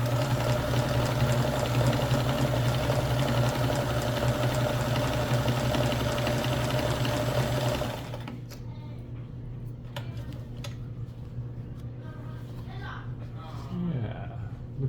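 A Kenmore 158.1400 sewing machine stitches fabric at a short stitch length and narrow width, its motor humming in a steady, even whir for about eight seconds before it stops, leaving a quiet room with faint small noises.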